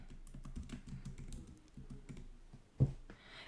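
Steady typing on a computer keyboard, a quick run of soft, close key clicks with one louder tap near the end, no voices.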